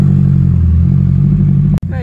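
A carburetted engine being tuned with a Fueltech wideband held at full throttle, a loud, steady, close roar that cuts off abruptly near the end.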